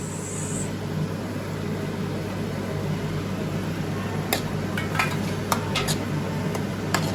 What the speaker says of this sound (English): now I am going to add in the tomatoes